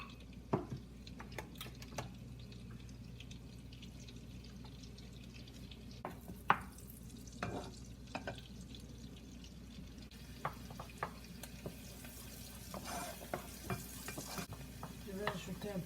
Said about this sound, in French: je vais mettre pas beaucoup de beurre, juste un peu. Pour commencer à faire des légumes avant.